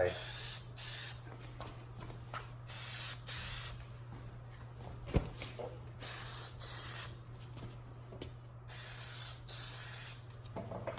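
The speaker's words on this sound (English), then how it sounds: "then we'll test spray it" An aerosol can of Plasti Dip sprays onto Honda Accord emblems in repeated short hissing bursts, about eight evenly spaced puffs, loud and close, with gaps between each.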